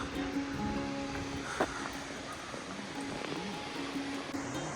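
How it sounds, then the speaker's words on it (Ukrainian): A waterfall on Hawaii's Big Island makes a steady, broad roar of rushing water, continuous and fairly loud across the whole stretch, with no talking. "Просто подивіться на цей водоспад."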